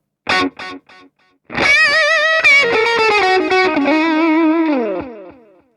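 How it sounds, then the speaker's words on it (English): A distorted electric guitar through a Dimehead NAM player pedal plays a few short notes, then a sustained phrase with a delay effect repeating and trailing the notes before fading out. "this is what the delay then sounds like"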